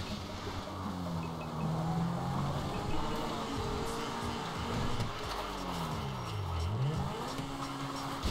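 A car in Grand Theft Auto V is driven with a steady engine drone that sweeps up and down as it accelerates and slows, loud and continuous with no talk.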